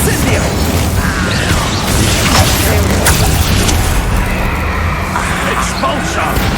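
Incendiary fire spell from the Hogwarts Legacy video game, a dense, loud rumbling blast with crackling and clanking layers that runs throughout, with a voice speaking over it.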